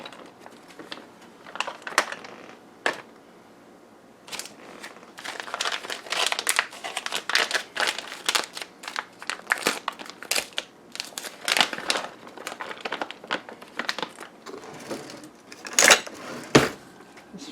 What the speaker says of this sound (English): I'm going to take the rice and just press it around a little bit so it's not in clumps